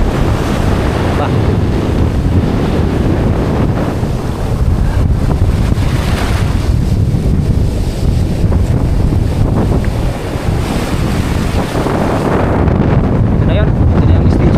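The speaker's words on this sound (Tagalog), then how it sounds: "Malaki ang alon." Heavy surf roars continuously during a typhoon at Dinahican, Infanta, Quezon, while strong wind buffets the microphone, a loud, unbroken rush of water and gusts.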